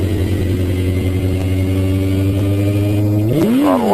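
Sport motorcycle engine held at a steady loud drone, then revving sharply upward near the end as the bike lifts into a wheelie.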